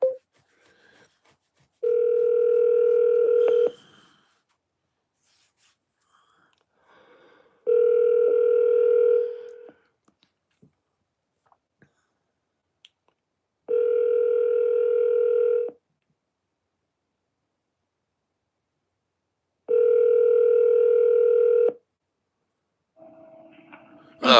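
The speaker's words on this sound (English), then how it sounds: "Calling Sweetie PD's mobile." An outgoing phone call placed through an Alexa smart speaker rings with four evenly spaced long tones, each about two seconds, separated by roughly four seconds of silence, clear and steady in a quiet room.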